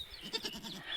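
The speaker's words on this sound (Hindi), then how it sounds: "यहाँ पर बकरियाँ हैं।" Goats in a village area bleat faintly from a short distance, giving a few quiet, wavering cries.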